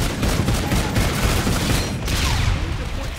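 A G18 pistol fires in rapid, dense bursts in Call of Duty Infinite Warfare zombies mode, loud continuous gunfire mixed with game explosions and chaos throughout.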